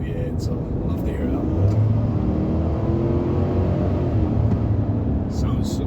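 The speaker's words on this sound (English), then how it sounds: "it's not a bad sound for a V8" A GMC Sierra pickup's 5.3-litre Ecotec3 V8 rumbles steadily at close range on a night drive, a low, muffled engine drone with mild revving swells that hold throughout.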